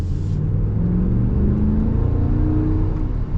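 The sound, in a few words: 2024 Ram 1500 Classic 5.7 Hemi V8 engine revving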